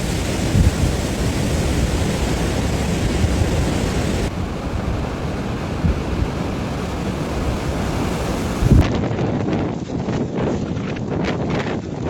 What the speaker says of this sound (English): wind gusts reach 20 to 25 meters per second in some areas